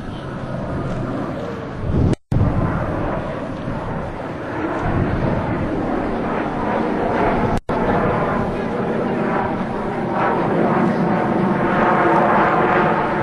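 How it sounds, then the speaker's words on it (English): US Navy Blue Angels jets flying a left echelon roll at an air show produce a loud continuous roaring rumble, with wind buffeting and a public-address announcer talking over it. "Ladies and gentlemen, the Blue Angel left echelon roll."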